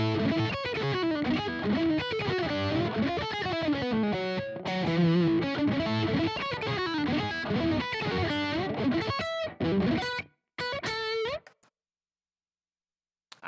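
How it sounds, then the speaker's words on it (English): Heavily distorted electric guitar played loud and dense with an effects unit, riffing steadily for about ten seconds, then a few short bursts before falling silent. "Too much distortion."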